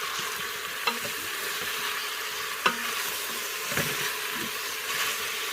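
Garlic fries in oil in a pan with a steady, close sizzle, broken by a few sharp clinks of a utensil stirring against the pan.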